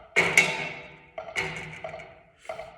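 A loose drum roll played with sticks in a percussion lesson, heard as several short, buzzy bursts of strokes that each fade quickly, with gaps between them, fairly close and alone.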